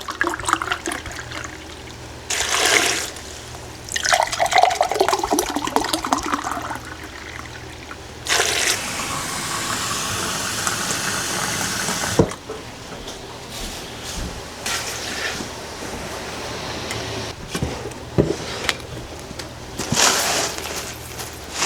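Vinegar and water poured together for pickling peppers, a steady liquid splash and trickle in a couple of bursts with kitchen handling noises between, close and fairly loud.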